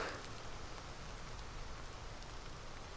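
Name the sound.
rain falling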